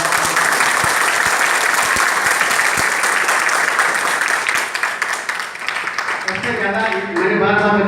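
Loud, dense applause from an audience at a school orientation programme, filling the first six seconds, then fading into a mix of crowd noise and a voice.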